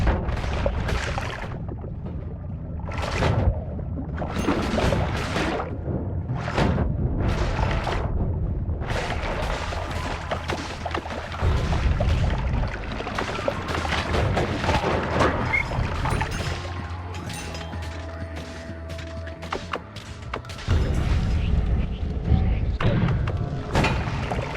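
Repeated heavy thuds and booming blasts from explosions in the game Noita, loud and irregular with several sharp bursts early on, over a continuous rumbling bed.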